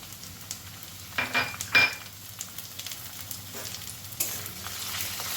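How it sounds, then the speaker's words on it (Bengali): Salted prawns sizzle in frying onions in a pan over a medium flame, stirred with a few louder scraping bursts over a steady close hiss, no voices. "এখন আমি এই পেঁয়াজের মধ্যে দিয়ে দেব লবণ মাখানো চিংড়ি মাছগুলো"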